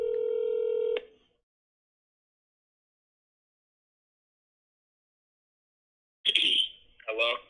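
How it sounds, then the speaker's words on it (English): A telephone dialing out for a call gives a steady, clear electronic tone lasting about a second, followed by several seconds of silence and then a person speaking close by. "Let me call somebody else."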